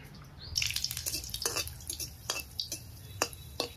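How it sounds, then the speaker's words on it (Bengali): Two or three dried red chillies sizzle in hot oil in a wok, with soft crackles and a few scattered sharper pops, fairly quiet and close. "কড়াই গরম হয়ে গেছে, ফোড়নের তেলে 2-3টা শুকনো লঙ্কা ভেজে রাখবো আগে।"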